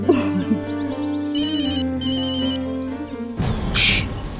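A phone rings with a repeating electronic trill in two short bursts over a sustained musical background, followed by a sudden burst of noise.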